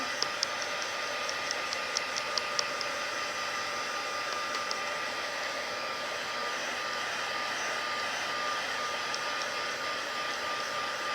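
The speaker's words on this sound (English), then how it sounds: "I am going to take my heat tool and just give it a quick shot of heat just to make sure that it's good and dry." A craft heat tool blows hot air to dry stamping ink on paper, a steady loud whirring hiss that runs unbroken throughout, with faint light clicks near the start.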